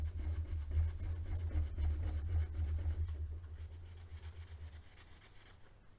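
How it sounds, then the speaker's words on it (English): Steady rough rubbing and rasping of sandpaper on a metal can opener by hand, close up, continuing for several seconds with a low hum underneath and gradually fading. "when I'm sanding this all down."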